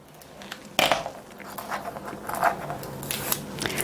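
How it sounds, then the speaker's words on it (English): Scissors snip through a paper sewing pattern along a drawn line: a sharp close cut near the start, then a run of softer crisp snips and paper rustles at an uneven pace, with no talking. "I'm going to cut on this line that I've drawn so that I can move this whole pattern piece forward."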